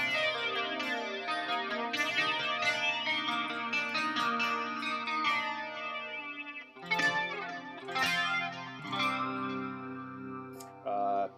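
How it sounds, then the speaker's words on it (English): An electric guitar with a flanger on a Line 6 Helix rings out in sustained chords and picked notes that carry a sweeping, whooshing modulation, played alone at an even, moderate level. "Can add a flanger."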